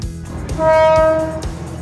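A train passes near a riverside garden cafe in Kanchanaburi, Thailand, giving one loud, close horn blast of just under a second over rolling rail rumble.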